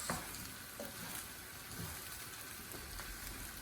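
Rice and garlic butter lobster fry and get stirred in a pan over high heat, a quiet, steady sizzle with soft scraping stir strokes and no talk.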